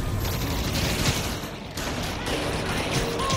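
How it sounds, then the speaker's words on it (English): Sustained gunfire in the Marvel's Spider-Man: Miles Morales video game, a dense continuous rattle of shots with mechanical clatter, loud and steady throughout. "Who the heck are these people shooting?"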